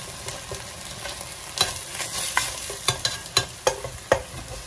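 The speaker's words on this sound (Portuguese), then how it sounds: "Agora eu vou acrescentar o nosso azeite de dendê, para ir refogando esses primeiros ingredientes" Chopped garlic sautéing in dendê palm oil for a Brazilian sardine vatapá, a steady soft sizzle broken by several sharp stirring scrapes and clinks near the end, no voices.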